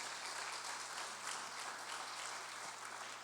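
A church congregation claps together in a steady, dense burst, fairly faint and even throughout, with a low hum underneath.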